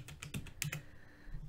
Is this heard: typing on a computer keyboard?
yes